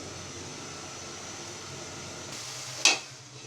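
Spice paste for a koi fish curry with potatoes and stems sizzles softly in a pan, a steady low hiss ending in one sharp scrape or clatter near the end.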